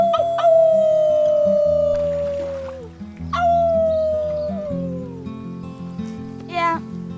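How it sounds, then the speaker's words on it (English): Characters in the video game Life is Strange 2 howl together like wolves, long sliding wavering cries repeated three times over a bed of game music, fairly loud and close. "Let's start with our team howl."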